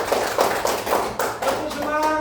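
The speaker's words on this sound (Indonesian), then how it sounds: "tepuk tangan dulu semua." A class of children clapping hands together in a classroom, a brief burst of claps in a few rhythmic pulses, close and moderately loud, with some voices mixed in.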